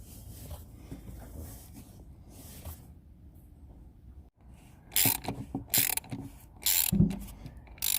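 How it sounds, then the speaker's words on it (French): An oil filter is screwed on by hand on a Mercedes A 170 CDI W168 during an oil change, giving a soft scraping rotation, then loud ratcheting clicks in quick bursts close to the microphone. "On visse à la main."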